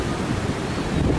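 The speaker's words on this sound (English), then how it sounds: "There's the sea." Sea surf and gusting wind in bad weather on the coast at Boulogne-sur-Mer, a brief loud continuous roar of breaking waves with wind buffeting the microphone.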